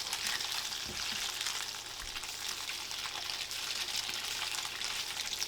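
Tofu pieces frying in hot oil for a hot and sour dish give a steady, close, dense sizzle and crackle that runs the whole time, with a few soft knocks and no talking.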